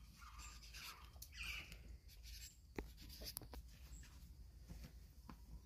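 Pen scratching on paper while writing out lottery numbers, with a steady run of close, light scribbling strokes and a few sharper taps, over low background hum.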